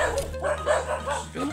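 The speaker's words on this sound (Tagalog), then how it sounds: "Malayo pa lang naririnig na yung ano, kahulan ng mga aso." Dogs bark from houses below a hillside jogging route, a quick run of several yips and barks, fairly distinct though not right up close.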